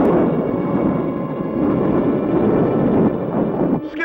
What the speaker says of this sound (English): Eros is erupting. Volcanic blasts.